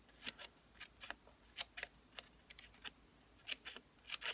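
Sharp snips cutting paper, a series of crisp snipping clicks in uneven rhythm, close and fairly quiet, with no talking.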